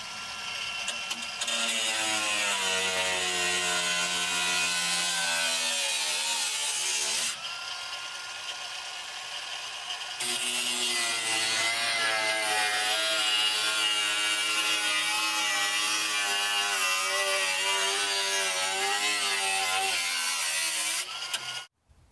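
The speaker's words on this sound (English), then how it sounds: "the Jigsaw with a metal bit on it" A jigsaw fitted with a metal-cutting bit saws through the floor pan of an '89 Cherokee, a loud, continuous buzzing rasp that runs with one brief pause partway through before ending abruptly.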